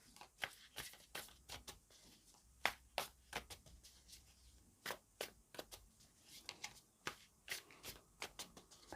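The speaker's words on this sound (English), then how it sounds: "I'm going to continue to shuffle." Tarot cards are shuffled repeatedly, crisp flicking and slapping bursts in an uneven rhythm, close and quiet, with no voices.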